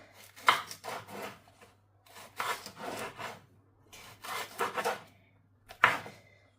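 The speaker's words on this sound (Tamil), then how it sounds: "இதே மாதிரி இருக்கிற கறிமுளகா ரெண்டையும் நான் கட் பண்ணி எடுக்கிறேன்" A knife cuts green chilies for a Sri Lankan chicken devilled recipe, producing close, irregular scraping and slicing strokes in short clusters separated by brief pauses.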